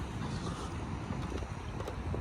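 Strong wind blows outdoors during a walk, a continuous loud low roar buffeting the microphone with no break and no voices.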